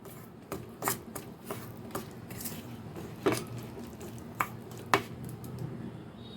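A spoon mixes spice masala with curd and gram flour in a bowl, giving soft wet squishes and light clinks against the bowl in an irregular rhythm, close and quiet.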